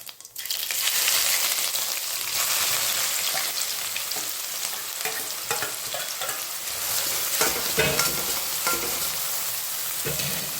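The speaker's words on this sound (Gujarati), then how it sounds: "આપણે એમાં રાઈ અને જીરું એડ કરીશું અને 3 ડુંગળી ચોપ કરી છે હું એડ કરી દઈશ એમાં" Mustard seeds, cumin and three chopped onions hit hot oil in a pan and sizzle steadily while a spoon stirs them. The frying is close and continuous throughout, with scraping stir sounds and no talking.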